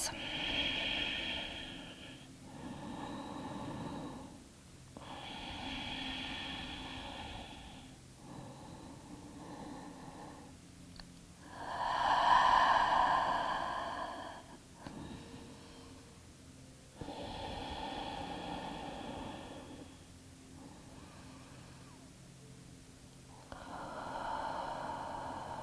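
Slow, audible breaths held through a yoga forward-fold pose, with long inhales and exhales alternating in a steady rhythm, close and fairly soft, one fuller gust standing out near the middle.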